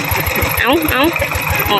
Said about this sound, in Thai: มากับรถไถนาเนาะพี่น้อง